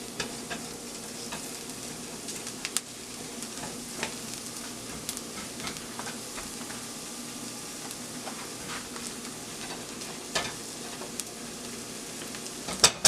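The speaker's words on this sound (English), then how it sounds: "We're going to throw in a tablespoon of butter, let that melt. Keep everything moving because you don't want to get them too brown." Seafood sizzles steadily in melted butter in a pan while being stirred, with scattered scrapes and clicks of the utensil over a continuous frying hiss, close up and with no talking.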